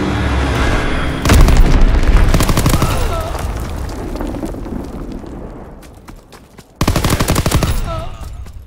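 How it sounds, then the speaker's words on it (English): A Fritz X bomb strike in the World War II shooter Call of Duty WW2 sends out a loud, dense roar of blasts and rapid gunfire. The roar fades briefly, then returns as another heavy burst. "Dropping Fritz X bomb."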